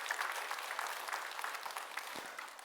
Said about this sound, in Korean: 이 시간에 여러분 다시 한번 박수 한번 해주셔요